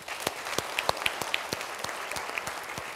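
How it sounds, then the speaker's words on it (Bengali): An audience at a university debate competition applauds to welcome the chief guest, a vice-chancellor, with moderate, fairly sparse clapping of individual claps sounding through a steady hiss from a distance. "আমরা সবাই তালি দিয়ে স্যারকে অভিনন্দন জানাই।"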